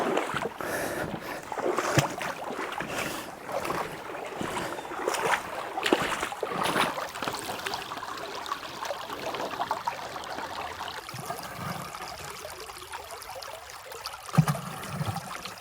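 Water rushes and trickles continuously while a bucket of gravel is sluiced for gold in Wisconsin. Splashes and scraping sounds are close, with louder gushes early on that settle into a softer flow.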